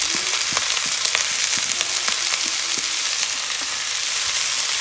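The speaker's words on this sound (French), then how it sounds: "Donc, je préfère d'abord faire revenir mes légumes" Onions and leeks sautéing in a pan for a leek tart, an even, loud sizzle with occasional scraping stirs and small crackles, heard up close without any talking.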